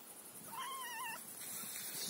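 A cat gives a short, thin, wavering squeak, high and faint, then a quieter second squeak follows against soft background hiss.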